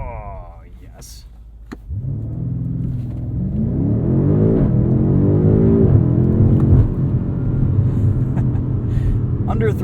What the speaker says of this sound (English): Let's do a quick brake test with these carbon ceramics and then I will launch.